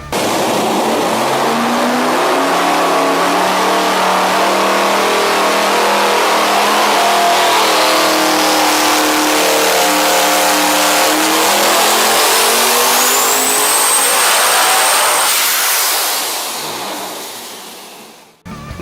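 Devel Sixteen V16 engine, rated at 5000 horsepower, revs hard on a dyno: a loud, sustained roar climbs steadily in pitch with a rising turbo whine, then cuts off abruptly near the end.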